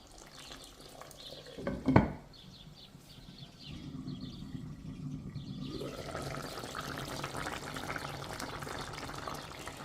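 A pot of potatoes and carrots bubbles and simmers, a soft steady boiling hiss that swells louder partway through, after a brief clunk near the start.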